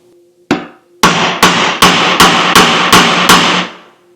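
Hammer driving an old plug out of a Scout 800 restoration part: one opening strike, then seven sharp, evenly spaced metallic blows, loud and close, each ringing briefly.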